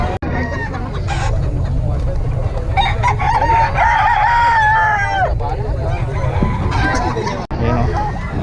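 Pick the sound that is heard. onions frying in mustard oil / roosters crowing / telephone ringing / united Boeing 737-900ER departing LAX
roosters crowing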